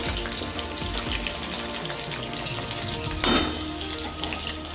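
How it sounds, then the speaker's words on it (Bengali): Potatoes frying in oil until reddish, a dense continuous sizzle close up with a brief louder hiss burst late on, no talk. "এর সঙ্গে আলুগুলো আমি লাল লাল করে ভেজে নেবো"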